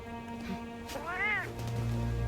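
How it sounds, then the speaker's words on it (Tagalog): A white cat in the video game Monster Hunter World lets out a short rising-and-falling meow over steady game music and ambient tones, moderately loud in the middle of the mix. "Ang cute ng pusa, kulay puti."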